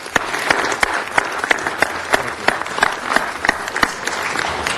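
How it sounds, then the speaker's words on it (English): An audience applauds in City Hall during a city council meeting for the Miss Chinatown Los Angeles court, with clear individual sharp claps standing out over a continuous clapping crowd, close and moderately loud. "Let's give a round of applause."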